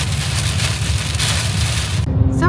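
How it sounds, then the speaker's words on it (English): Heavy rainstorm pounding on a car while driving toward Florida, a dense, loud, continuous hiss and roar of water with low road rumble underneath, unbroken throughout. "the amount of water that's coming down, this is a serious storm"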